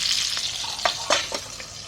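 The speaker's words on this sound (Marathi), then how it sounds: "तेलामध्ये ठेवली आहे कढई भरून ठेवली आहे आता त्याच्यामुळे वरती आहे ना झाकण ठेवते" Stuffed tomatoes fry in oil inside a covered kadhai, giving a steady close sizzle with a few brief crackling pops, no voices.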